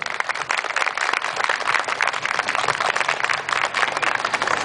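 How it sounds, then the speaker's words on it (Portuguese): An audience applauds Leopoldo Paulino at a tribute ceremony in Ibiúna, with dense, steady clapping from a crowd that continues throughout at moderate distance. "recebendo uma salva de palmas"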